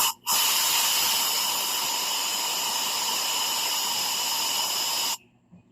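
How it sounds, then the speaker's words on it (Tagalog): Compressed air blasts into the exhaust port of a Yamaha Mio i 125 cylinder head to check reground valves for leaks, a loud, steady, close hiss that starts sharply and stops abruptly about five seconds later. "Tapos bugahan natin ng hangin ang intake at saka exhaust."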